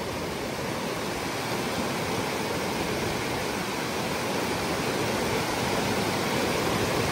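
Glacier meltwater stream in Sonmarg, Kashmir rushing in a steady, loud, unbroken roar of broadband water noise, close by, with no voices.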